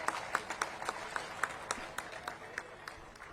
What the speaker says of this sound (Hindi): जोरदार तालियों से स्वागत किया जाए।